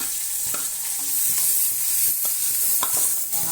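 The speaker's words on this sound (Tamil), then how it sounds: "எண்ணெயை ஊற்றி சோம்பு போட்டு தாளிக்கிறேன்" Fennel seeds sizzle and crackle in hot oil, tempering for a crab curry, a constant bright hiss with scattered pops and a few stirring clicks.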